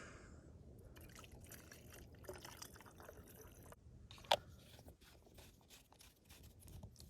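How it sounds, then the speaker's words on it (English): Water trickles and pours into a plastic spray bottle holding a few drops of added oil, a steady quiet liquid rush with one sharp knock midway, close and alone. "Then I just fill that up with water."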